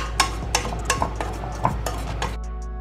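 A spoon scrapes and clinks against a bowl while semolina (sooji) is stirred and mixed, a few sharp metallic knocks over steady low rumble, close and moderately loud with no talking.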